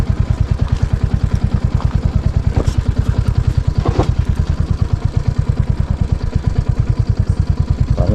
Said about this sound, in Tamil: பிரேக் போட்டால் கூட வண்டி நிற்க மாட்டேங்குது, இழுக்குது.